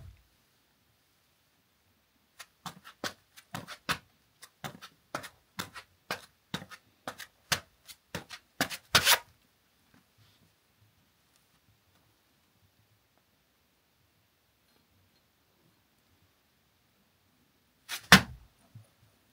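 A foley artist performs footsteps on a studio stage at Sony Pictures Studios, a quick irregular series of close, crisp steps that ends in a louder landing, then silence and one final thump.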